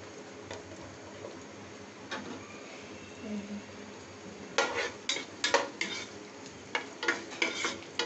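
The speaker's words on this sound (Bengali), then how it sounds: "এবার দিয়ে দিচ্ছি পেঁয়াজ" Chopped onion frying in a pan with a spoon stirring, soft sizzle under a run of clicking, scraping strokes against the pan that come thicker toward the end.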